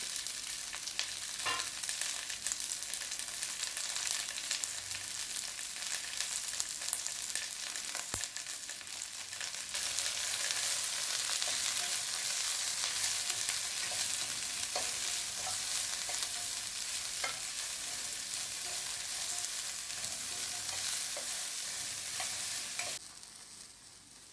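Okra sautés with salt in a pan, making a soft, steady hiss and crackle with light stirring. The sound stays faint and even throughout.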